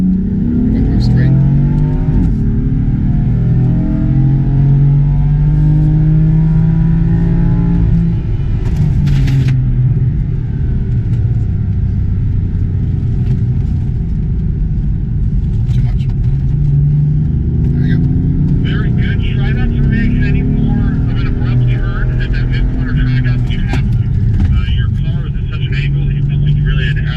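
BMW M4 accelerating on a race track at a club track day, a loud steady engine roar with rising and falling revs filling the whole run, heard from inside the car with wind and road rumble.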